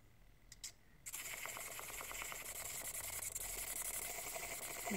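A small motor on a Makey Makey spin art rig whirs up and spins a CD, starting abruptly after a couple of light clicks and then holding a steady, close buzzing hum with a rapid rattling pulse.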